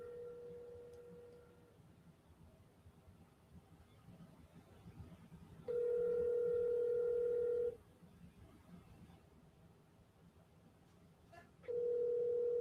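Ringback tone of an outgoing telephone call, heard as three long steady electronic beeps with quiet gaps of several seconds between them, over a faint low hum.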